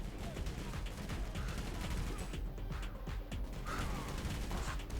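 Rapid bursts of gunfire in a bank robbery video game crackle almost nonstop in dense, overlapping volleys, loud and close throughout.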